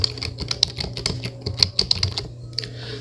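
Keys on a computer keyboard are tapped in an irregular run of crisp, close clicks, with a low hum and a quiet pause near the end.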